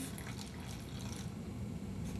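Water pours steadily into a clamped plastic bottle of soil set over a beaker for leaching, a continuous splashing trickle close by with no talk.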